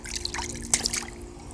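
Water at the beach splashes and drips in a few soft, close trickles and light spatters, fairly quiet, with no talking.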